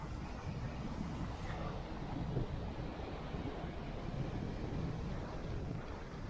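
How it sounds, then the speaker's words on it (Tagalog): Rough ocean surf breaking on a beach, a faint, continuous wash of waves mixed with wind buffeting the microphone, with no voices. "So, andito tayo ngayon sa surf. Mukhang rough yung surf."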